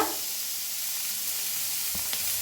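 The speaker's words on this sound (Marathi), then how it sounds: "आणि लसूण सगळं मिळून भाजून घेऊया" Red chillies, tamarind, ginger, garlic and tomatoes roast in a hot pan, giving a steady, close sizzling hiss throughout, with a faint stirring scrape near the end and no voices.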